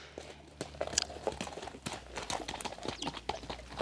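A horse moves nearby with irregular hoof knocks and shuffling steps on the ground, moderately close, mixed with light rustling and no talk.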